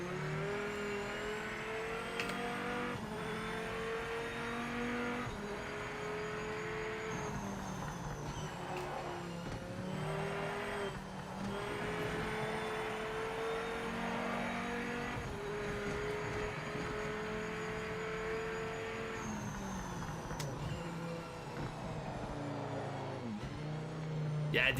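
Race car engine from the sim racing game Project Motor Racing, revving steadily with harsh, aggressive downshifts, loud and continuous under talk throughout.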